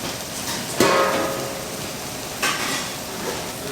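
Kimchi sizzles steadily in a hot frying pan, with two sharp clatters of a utensil stirring against the metal.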